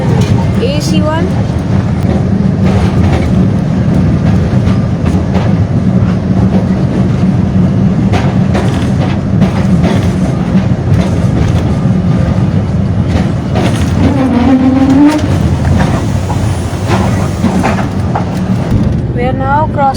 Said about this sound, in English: We are now having a tram ride in Kolkata tram.